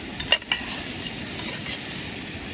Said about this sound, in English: So I'm going to stir.